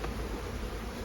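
Honeybees buzz around hive frames while mated queens are being added, a dense continuous hum close by with no talk.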